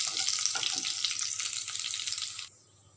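Ingredients sautéing in a hot pan give a loud, bright sizzle with light stirring taps for about two and a half seconds, then the hiss drops away sharply to near quiet.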